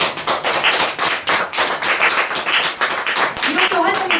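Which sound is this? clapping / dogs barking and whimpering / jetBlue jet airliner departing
clapping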